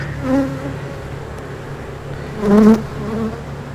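Honeybees hum around an open beehive as a beekeeper works the frames, a steady close buzz that swells twice as bees pass near, with no voices.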